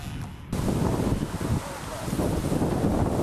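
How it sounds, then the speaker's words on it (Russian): Strong wind in the Kolyma region buffets the microphone in a steady, roaring rush, with broadband noise gusting loudly throughout after a brief quieter start. "В общем, ветер усилился капитально."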